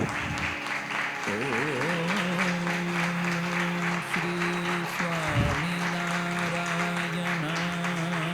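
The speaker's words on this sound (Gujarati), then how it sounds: "એ માટે સ્વામીજીના આપણે તાળીઓથી સ્વાગત કરીશું" An audience at a Hindu religious discourse, the Hari Smruti Katha, claps steadily for about eight seconds to welcome a swami, with a sustained musical drone running beneath the dense applause.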